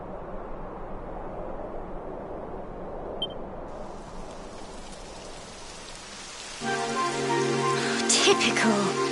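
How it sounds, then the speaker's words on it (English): Steady hissing rainfall in the Dragon Quest Heroes video game, a soft, even patter that continues as game music with sustained tones rises over it near the end. "It would have to go and start raining, wouldn't it?"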